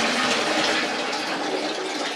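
Water pours out of a hydroponic growing tank in a greenhouse, a steady rushing splash that runs loud and close for about two seconds with no voices.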